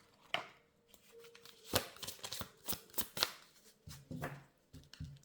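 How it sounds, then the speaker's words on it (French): Tarot cards are handled and drawn from a deck, making soft irregular snaps, slides and rustles at close range in an otherwise quiet room. "Prendre ici encore une carte."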